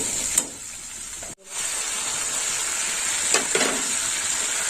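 Red chili powder masala frying in a pan gives a steady close sizzle and hiss, broken by a brief silent gap near the start, with a few faint stirring scrapes.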